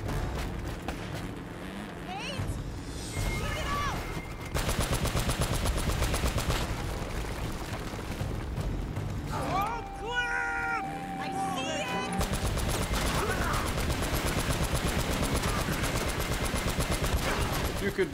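Gunfire in Drake's Fortune Remastered, with dense bursts of rapid shots and single cracks running almost the whole time amid game sounds and music, loud and close, with a voice speaking in places.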